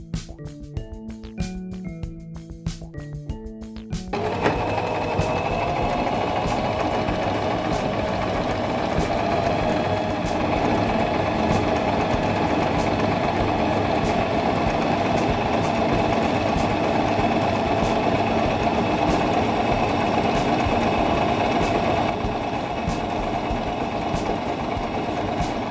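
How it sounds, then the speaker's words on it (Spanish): A SINGER mechanical sewing machine stitches fabric, starting with a few slow separate clacks and then running at a steady fast mechanical chatter, loud, close and even for a long stretch before easing slightly near the end. "Acomoda la tela debajo del prensatelas y comienza a coser."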